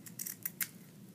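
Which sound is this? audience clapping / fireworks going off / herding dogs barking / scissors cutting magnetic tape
scissors cutting magnetic tape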